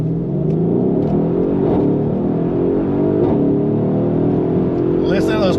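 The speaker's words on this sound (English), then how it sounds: "Listen to those crackle and pops." Mercedes-Benz GLE 63 AMG S Coupe accelerating hard, a loud, steady engine roar building in pitch with exhaust crackle and pops, heard from inside the heavy coupe with a voice talking over it.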